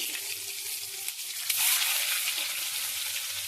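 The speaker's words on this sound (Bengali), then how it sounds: "এবার আর যে ডিমগুলো রাখা ছিল সেগুলো তেলের মধ্যে ছেড়ে দেবো।" Eggs fry in hot oil with a steady, dense sizzle, close up and loud throughout, briefly swelling as the crackle intensifies, with no voices over it.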